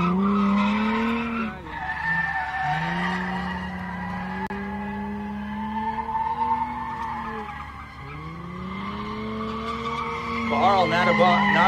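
A race car skids on a qualifying run, its tires squealing in long sweeping tones as the engine rises and falls, with excited voices and crowd noise underneath.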